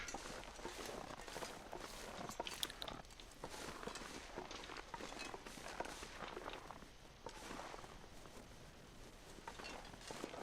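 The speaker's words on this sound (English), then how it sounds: "Thought I heard footsteps." Footsteps in the game The Long Dark: a steady series of crunching steps over a noisy windy background, moderately loud and continuous throughout, with no talk.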